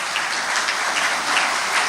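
Audience clapping at the Mahatma Gandhi peace award ceremony, a brief, even patter of many hands applauding together at moderate loudness.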